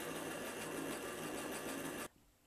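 A longarm quilting machine stitches appliqué in a steady, dense mechanical whir that runs continuously at close range and then stops abruptly near the end, leaving quiet room noise.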